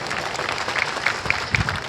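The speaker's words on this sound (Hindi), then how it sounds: "जरा तालियां बजाकर इस टीम का भी स्वागत करें।" An audience at a Home Guard foundation day event welcomes a civil defence team of young volunteers with brief, dense crowd clapping at moderate volume.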